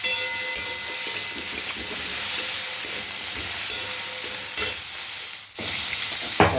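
Raw papaya pieces frying in a pan, a steady close sizzle and hiss with faint stirring scrapes, one brief sharp clatter near the end.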